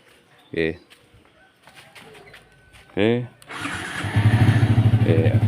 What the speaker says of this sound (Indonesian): kemudian kita coba untuk engine-nya. Engine-nya masih nyala ya.